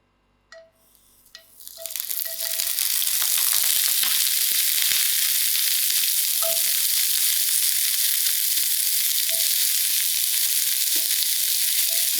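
Frozen mixed vegetables hit a pan with a little oil, a brief clatter giving way to a loud, steady sizzle and crackle that holds for the rest of the stretch, with occasional faint stirring clinks.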